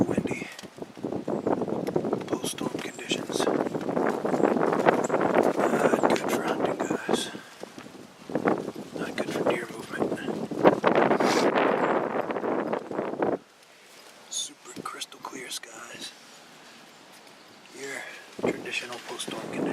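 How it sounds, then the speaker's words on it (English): Heavy post-storm wind buffets the microphone in loud, roaring gusts with rustling, then drops abruptly to a quieter, gusty background. "It is super windy."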